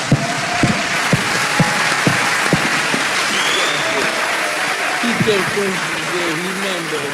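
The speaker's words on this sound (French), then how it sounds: "que je vous demande d'applaudir fortement, s'il vous plaît" Audience applause during a pan-Africanist speech in Congo, a sustained wash of clapping with a few sharp louder claps early on and voices and cheering rising toward the end.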